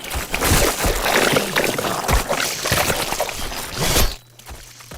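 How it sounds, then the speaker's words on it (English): A horror gore effect of blood and guts spilling, a loud continuous wet, sloshing, squelching mass of sound with pouring and dripping textures, cutting off abruptly near the end to a low hum. "we have this gore sound effect, this blood and guts and all that stuff that you hear spilling out underneath our monster"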